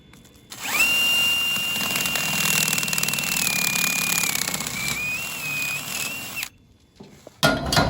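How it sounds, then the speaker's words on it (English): A power drill bores holes through the steel tongue of a bale trailer, a loud sustained whine running for about six seconds with slight pitch wavers, then cutting off before a short clatter. "Got the tongue drilled."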